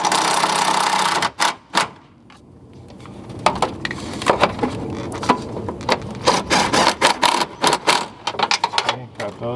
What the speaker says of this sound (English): I'm going ahead and tighten up these 2 11mm screws.